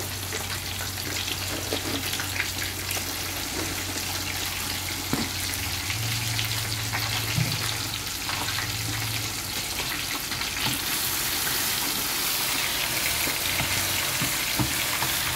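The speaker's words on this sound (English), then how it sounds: "Just gonna pop in some more prawns in there." Prawns fry in a pan with a dense, continuous close sizzle and occasional clatters from stirring, steady and unbroken, with a low hum underneath.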